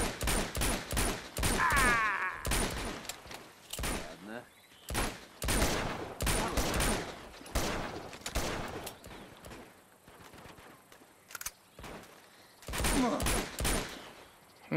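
Repeated bursts of rapid gunfire in Uncharted 2, some in long automatic volleys, with short pauses between, loud and close, like combat in a game.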